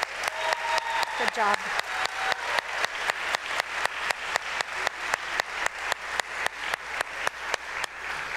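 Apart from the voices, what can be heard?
audience applause at a high school choir concert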